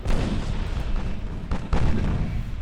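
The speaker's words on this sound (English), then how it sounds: "Torpedo hit on the enemy cruiser" In the Ultimate Admiral Dreadnoughts naval video game, a torpedo strikes an enemy cruiser, producing a loud, booming explosion with rumbling debris and a second heavy burst partway through.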